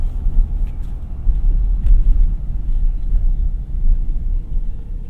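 A 2026 Ford F-250 Lariat pickup with the 7.3L Godzilla V8 drives along, its engine and road noise forming a steady, close, low rumble throughout with no voices.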